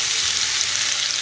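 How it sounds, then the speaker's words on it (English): Steak sears in hot oil in a pan, a loud, steady, close sizzle of bright hissing for about a second with no speech. "Now we're gonna place our steak"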